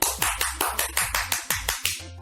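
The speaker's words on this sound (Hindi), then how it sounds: "इस काम के लिए तो तालियां बजनी चाहिए।" A single person claps for a child named Bittu in a children's class programme, about nine sharp, evenly spaced claps in a steady rhythm. The claps are close and clear, with no voices.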